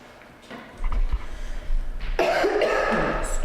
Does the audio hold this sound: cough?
yes